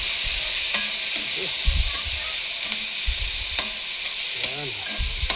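Meat and onions sauté in a pan, a steady bright sizzle and hiss running throughout, with occasional low knocks and stirring sounds and brief snippets of voice in the background.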